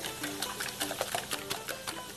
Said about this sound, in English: I'm just going to use a whisk to basically just whisk them together